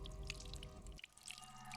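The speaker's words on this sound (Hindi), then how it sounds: "बाथरूम में पानी बहने की आवाज आ रही है।" Water runs and drips faintly in a bathroom, a soft trickle with scattered droplet ticks, heard at a distance behind a closed door.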